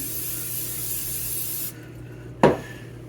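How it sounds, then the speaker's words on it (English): Pam cooking spray released in one short hissing burst onto a pan on a stovetop set to medium-high, close and clear after a steady background hiss cuts out. "We're going to spray our pan down with Pam."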